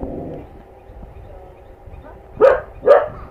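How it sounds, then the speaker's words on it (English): A pet dog barks twice in quick succession near the end, sharp and fairly close, after a stretch of quiet room tone with faint murmuring. "Sorry about that, my dog is barking."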